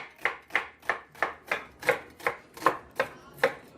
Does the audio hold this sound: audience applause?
no